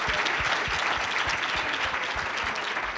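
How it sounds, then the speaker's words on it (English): Audience applause at the 2019 NC Child Hunger Leaders Conference, a dense, steady crowd of clapping hands that stays loud and even throughout. "Give another round of applause for Julie Pittman and Freebird McKinney."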